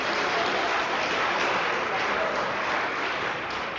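A crowd applauds steadily in a gym for senior wrestler Anthony Borchert at a high school wrestling triangular meet, a dense, even clapping that holds at constant loudness throughout.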